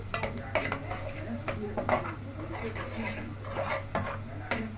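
Spices and broth being sautéed in a pan, giving a steady low sizzle with repeated stirring scrapes and utensil clinks against the pan, close and moderately loud.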